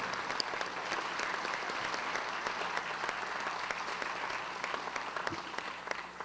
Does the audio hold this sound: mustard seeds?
no